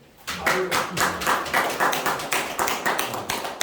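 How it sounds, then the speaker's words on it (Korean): Audience applause at the 4th Korea Crafts Competition ceremony in 2021, honoring an official; many hands clap in a quick, roughly rhythmic pattern, moderately loud and close, starting abruptly and continuing steadily. "박수 한번 치죠."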